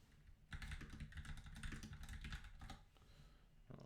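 Rapid clattering keystrokes on a computer keyboard, close and continuous, with a brief pause near the end.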